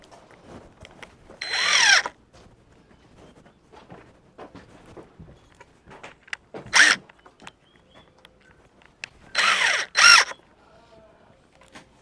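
A power drill whirs in three short bursts, separated by quieter stretches with faint background noise.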